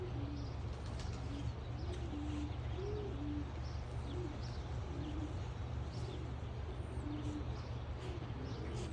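Racing pigeons coo softly and repeatedly in a loft, with low rolling calls recurring every second or so over a constant mechanical hum and scattered faint chirps.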